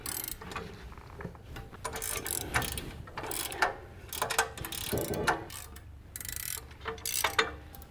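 A wrench ratchets bolts tight on a Tilmor Power Ox S-tine tiller assembly, giving quiet, uneven clicking bursts close by with short pauses between them.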